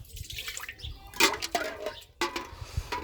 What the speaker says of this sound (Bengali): ভালোভাবে ধুয়ে ফেলে দেবেন